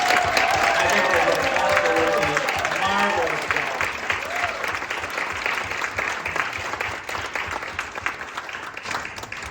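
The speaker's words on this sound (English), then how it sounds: "let's give a warm round of applause for Emily Wigalski and the whole volunteer team" A banquet hall crowd at a 175th anniversary gala of the St. Andrew's Society of Detroit applauds the volunteer team, dense steady clapping with some cheering that eases slightly partway through, with voices mixed in.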